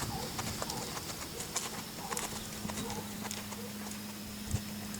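A horse walking at an easy pace on a trail, hooves clip-clopping in a steady rhythm, close and moderately loud, with faint birdsong in the background.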